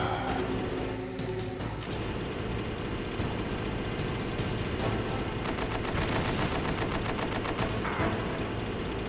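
Gunfire in the Metal Gear Solid video game during a fight against an M1 tank, dense rapid bursts of shots with booming impacts, loud and continuous throughout.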